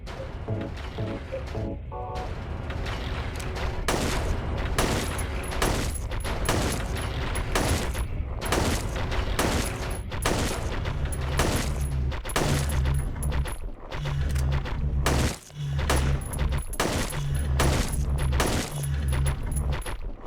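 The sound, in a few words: shotgun gunfire, from the video game Silent Hill 3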